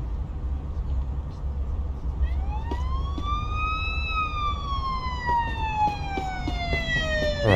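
An ambulance siren in the Police Simulator: Patrol Officers video game sounds one slow wail that climbs, peaks and gradually falls, moderately loud over a low steady rumble.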